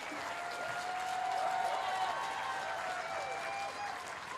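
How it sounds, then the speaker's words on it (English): Crowd applauding at a political rally, a sustained roar of clapping heard at some distance, with faint cheers and a whistle-like tone running through the steady wash. "I want you to give yourselves a round of applause"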